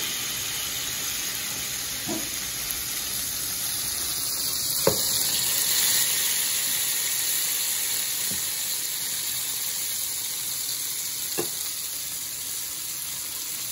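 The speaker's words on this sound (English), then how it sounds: "So now we're gonna smash the onion down into the burger." A burger patty with seasoned onion sizzles steadily on a hot griddle as it is smashed down, a continuous close frying hiss with a few sharp scrape-like clicks from the spatula.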